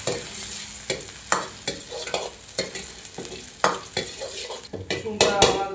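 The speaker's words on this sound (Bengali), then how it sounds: "রসুনটাকে হালকা ভেজে নেব।" Garlic fries lightly in a pan, a steady soft sizzle broken by regular scraping clinks as a utensil stirs it, close and alone with no voices.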